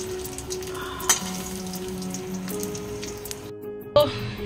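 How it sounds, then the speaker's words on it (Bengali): Eggs frying in a pan until browned, a soft continuous sizzle with a couple of sharp clinks from a utensil against the pan. "দেখো ভালো করে লাল লাল করে ভেজে নিই"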